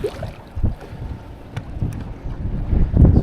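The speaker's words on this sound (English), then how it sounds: "Fighting this frickin' wind." Gusty wind buffets the microphone on a fishing boat out on open water during a bass tournament, rising and falling in loud low rumbles with a few brief knocks, no voices.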